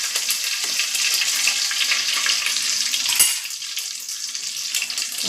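Curry leaves crackle and sizzle in hot oil with mustard seeds, a steady loud frying hiss with a brief sharp pop near the end, no voices.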